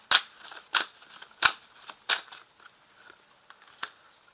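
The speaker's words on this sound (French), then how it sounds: "je vais placer maintenant le reste des cartes sur le pendu" Tarot cards laid down one by one onto a spread during a reading, giving sharp papery snaps and slaps at an irregular pace, about seven distinct placements, close and fairly loud with no talking.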